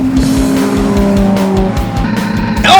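Race cars lapping Circuit of the Americas in an EXR Series race, engines droning loud and steady with pitch shifts and a brief tire squeal near the end, no voices over it.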